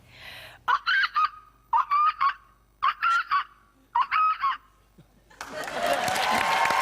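A person's voice imitates a red-tailed hawk call in four strained, screechy bursts, each made of short repeated cries. Applause and crowd noise rise right after.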